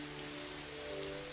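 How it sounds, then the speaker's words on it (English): Steady rain falls outdoors at a wall-building site, a continuous close hiss of drops on surfaces with a faint low hum beneath. "we need to wait till this rain buggers off"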